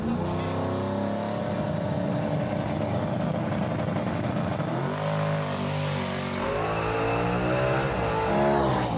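A Street Outlaws drag race car makes a test pass down the street, its engine roaring loudly and climbing through the revs, with a brief dip and a renewed surge near the end.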